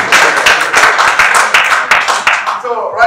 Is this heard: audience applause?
yes